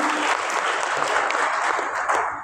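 A short burst of steady applause from an audience at a gender-agenda event, continuous and fairly loud, fading slightly at the end.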